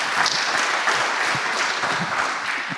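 A crowd at a lightning-talks session claps loudly and continuously for a speaker, a dense, even roar of applause filling the whole stretch without talk.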